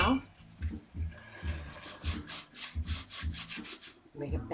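Rubber gloves rubbed together produce repeated squeaky, scraping rubs in uneven bursts, close and fairly loud, with someone speaking intermittently over them.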